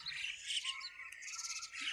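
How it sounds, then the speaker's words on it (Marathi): A flock of birds feeding on scattered rice chirps and squawks continuously, with a dense, overlapping chatter of many small calls close by and no talk. "हे पहा पक्षी, हे आपला तांदूळ खायले"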